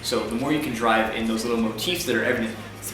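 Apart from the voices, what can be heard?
None of the usual background noises is heard.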